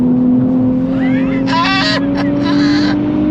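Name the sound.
2024 Nissan Z Nismo engine revving to 7,000 RPM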